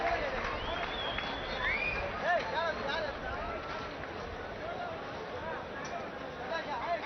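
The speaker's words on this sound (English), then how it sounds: "a big cheer from the crowd" Cricket crowd at an India versus Australia match cheering loudly and continuously as the players return to the field, a dense wash of voices and whistles with no break.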